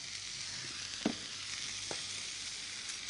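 Food searing in a dry pan with no oil, ginger-soy starter on the stove, giving a steady soft hiss throughout with two faint knocks of the pan or utensil, heard alone.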